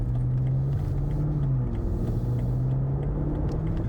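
A BMW F90 M5 Competition cruising gently in comfort mode, giving a steady, low engine drone and road rumble heard from inside the cabin, continuous and unchanging with no voices.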